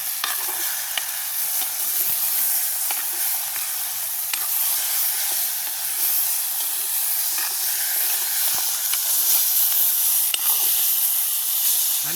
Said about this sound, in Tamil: இனி நாங்கள் இந்த ஈரலை இதுக்கு போடுவோம்